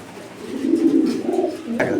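A red checker pigeon coos in low, rolling bursts close by, the throaty murmur continuing steadily for a couple of seconds with a brief sharper rustle near the end.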